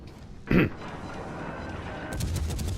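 A single naval gun blast from the German cruiser Hipper in World of Warships Legends, one short sharp boom near the start, followed by a quieter rumble and rising game ambience.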